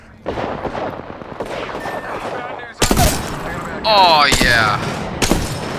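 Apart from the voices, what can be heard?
gunfire in the video game Apex Legends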